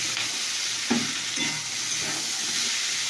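Chopped onion sizzles in a hot pan while being stirred, a close, steady frying hiss with a few soft scraping strokes of the spoon breaking through.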